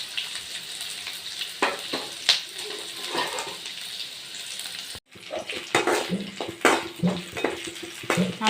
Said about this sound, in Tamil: நல்லா பொன்னிறமாக வதங்கிடுச்சு